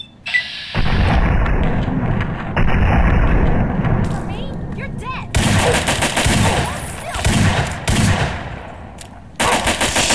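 Gunfire in Fallout 3, dense loud bursts of rapid shots and blasts in several clusters separated by brief lulls, with voices in the background.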